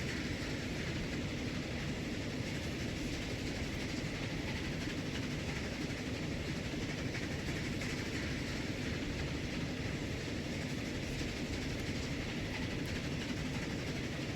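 Train running steadily in the Transport Fever video game, a continuous rumbling rail roll with faint clickety-clack, even and unbroken throughout, no talking over it.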